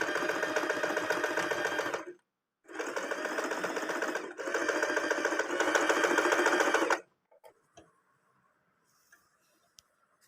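An Usha sewing machine stitches zigzag embroidery in rapid whirring bursts, running for about two seconds, pausing briefly, then running again before falling silent with a few faint clicks.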